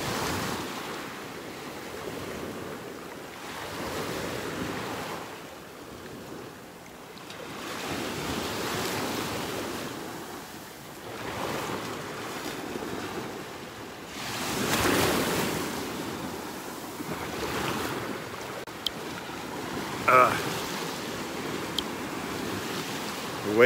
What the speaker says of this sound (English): Probably a little too much wave action here